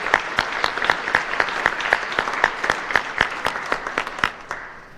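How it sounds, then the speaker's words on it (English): An audience at a city State of the City address claps steadily for several seconds, a dense, even applause with sharp close claps standing out, fading slightly at the end; no one speaks. "give her a round of applause tonight as we present the key to the city"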